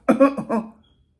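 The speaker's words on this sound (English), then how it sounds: "I was just clearing my throat" A short, raspy throat clearing in two or three quick bursts, close and fairly loud, then quiet.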